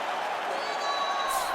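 A virtual arena crowd roars during a UFC 5 video game fight simulation, a steady, distant-sounding wash of cheering that sits under the game's commentary.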